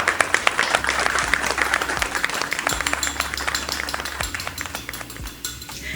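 Dense applause from a small crowd, steady clapping that fades slightly toward the end, with a few sharper individual claps standing out.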